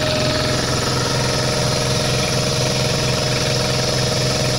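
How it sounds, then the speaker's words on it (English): An air compressor runs on power from an 8000W Reliable inverter, a loud, steady mechanical chugging with a fast pulsing rhythm that stays constant throughout, close up and with no talking over it. "we're gonna pull the release valve, which will let some air out until the compressor wants to turn on"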